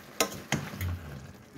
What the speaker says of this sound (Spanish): Vamos a echar la cauliflower. Ya estaba lavada. Removemos para mixtearle.